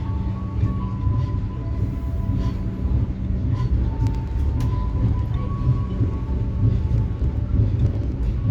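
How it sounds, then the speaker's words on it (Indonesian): Steady rumbling roll of the Airlangga passenger train running on rails in Indonesia, heard from inside the carriage as a continuous loud low drone with faint squeals and clicks. "kereta api Airlangga melanjutkan perjalanan dari stasiun Tanjung dan pemberhentian selanjutnya adalah stasiun Brebes"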